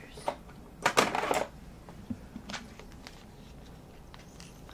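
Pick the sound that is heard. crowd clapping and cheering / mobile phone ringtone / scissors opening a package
scissors opening a package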